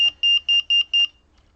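A Delkim carp fishing bite alarm gives five quick, loud, high electronic beeps in an even rhythm, then falls silent.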